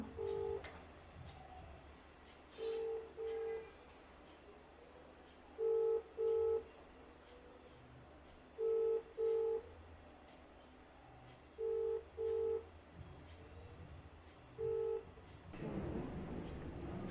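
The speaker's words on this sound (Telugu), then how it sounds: "కాల్ అయితే చేస్తున్నా." A phone call is dialed: paired electronic keypad tones sound in short bursts of two or three, spaced several seconds apart over low background hum, with a louder noise near the end.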